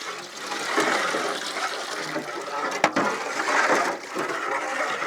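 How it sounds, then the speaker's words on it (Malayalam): Milk poured into a batch of watermelon juice for a huge watermelon caramel pudding cake, a steady, fairly loud rushing pour running unbroken for about five seconds with a brief knock near the middle. "ഇനി നമ്മുടെ തണ്ണിമത്തൻ ജ്യൂസിലേക്ക് നമുക്ക് കുറച്ച് പാൽ ഒഴിച്ചു കൊടുക്കണേ"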